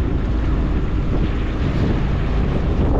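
Strong wind buffeting the microphone with a constant low roar, mixed with the rush of whitecapped waves at sea on a fishing trip, loud and unbroken.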